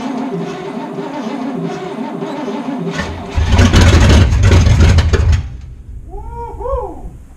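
Old barn-find hearse engine, sitting for 40 years, cranking and then catching, a loud rough idle and revving that surges for a couple of seconds, then cuts out, followed by a faint voice.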